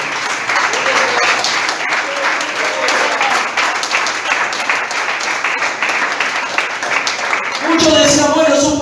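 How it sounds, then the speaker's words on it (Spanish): Congregation applauding in a church during an evangelical Spanish-language sermon, steady loud clapping for most of the stretch before a voice begins speaking near the end. "Aplaudan que vive."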